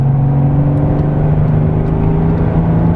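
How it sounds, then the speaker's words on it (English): Straight-piped turbo diesel Mercedes CDI accelerating normally, a loud, close, steady engine drone with a strong low hum and a constant whir, no talking over it. "This is just normal acceleration."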